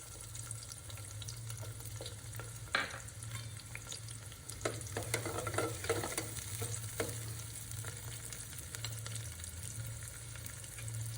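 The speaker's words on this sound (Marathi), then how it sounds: "तेल गरम झालेलं आहे आपलं मी टाकते एक कांदा बारीक केलेला" Finely chopped onion dropped into hot oil in a pan, giving a continuous crackling sizzle with occasional stirring clatters and scrapes, close and fairly quiet, with no talking.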